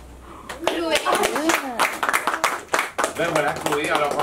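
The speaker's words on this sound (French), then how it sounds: "Chloé, alors je t'applaudis." Clapping at a French youth slam poetry event, a short burst of hand claps starting after a pause and running under overlapping voices and someone speaking.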